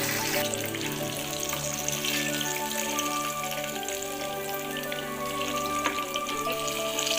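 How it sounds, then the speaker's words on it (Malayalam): Battered jackfruit fritters (chakka pori) fry in hot oil with a continuous, close, bubbling sizzle and occasional crackles, heard on their own without any talking. "ചൂടായ എണ്ണയിലേക്ക് ഇട്ട് കൊടുക്കാം ഒരു ഭാഗം ഫ്രൈ ആയി വന്നിട്ടുണ്ട്"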